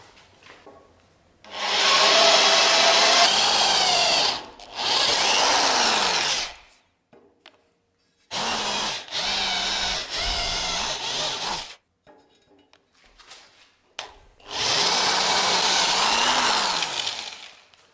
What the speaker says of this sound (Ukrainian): Ну що, все накернив, тепер можна і свердлити.